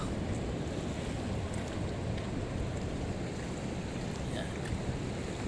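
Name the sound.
river water flowing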